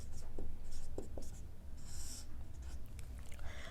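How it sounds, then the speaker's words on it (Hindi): Marker or chalk writing on a board during a geography lesson, heard as short scratchy strokes in several quick bursts, close and clear over a faint room hum, with no talking. "मैं यहाँ पे लिख देती हूँ"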